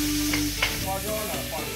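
Pork belly sizzles in hot oil in a pan with star anise, ginger and garlic, a steady close frying hiss with a couple of brief stirring clinks and no talk.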